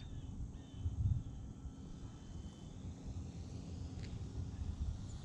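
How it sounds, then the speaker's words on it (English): A Husky model airplane with landing flaps deployed flies slowly at a distance, its engine and propeller making a steady, soft drone that merges with constant wind rumble. "Look how slow this plane gets"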